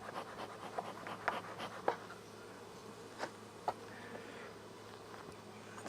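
Honey bees buzzing around a hive in a backyard apiary in early fall, a faint steady drone with occasional louder bees passing close by, quiet background, no talking.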